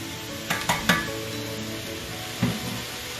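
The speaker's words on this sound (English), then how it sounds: "what I'm gonna do is I'm gonna get these mirepoix nice and brown" Mirepoix browns in a pan where oxtails were just seared, giving a steady close sizzle of frying with a few sharp clinks and scrapes of a utensil stirring against the pan.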